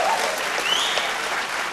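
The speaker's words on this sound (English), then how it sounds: "Ladies and gentlemen, another round of applause please for the duet, Ray and Sarah Mura" An audience claps and cheers steadily for a duet of singers at a televised vocal competition, with dense, loud applause filling the room throughout.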